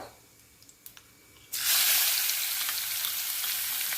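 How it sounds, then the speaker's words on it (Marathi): Finely chopped onion and asafoetida hitting hot oil with cumin in a pan: after a few light taps, a sudden loud hiss bursts up and settles into a steady, strong sizzle. "हिंग टाकत आहे बारीक का कापलेला कांदा"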